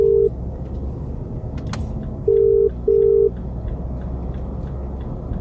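A phone call is placed: a short dial beep, then repeated ringback tones in even bursts over a low background hum, with no talking.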